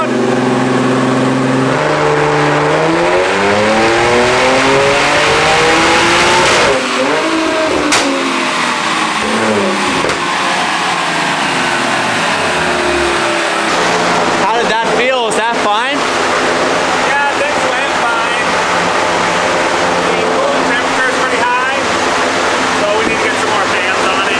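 A loud Audi S4 engine with a Stage 2+ tune revs hard on a dyno, its pitch sweeping up and down in repeated surges, then holds a steady high roar close by.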